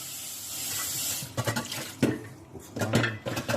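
Cold water runs from a kitchen tap while scallops are rinsed, a steady splashing stream broken by clinks and water splashes from handling, fairly quiet with no talking.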